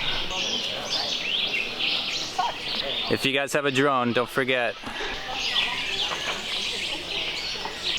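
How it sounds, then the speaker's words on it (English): Birds call and chirp from the trees around a Mayan pyramid site, a steady high chatter through most of the stretch, with someone talking in the middle. "here there's lots of trees, lots of birds"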